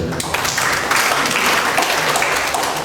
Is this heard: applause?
yes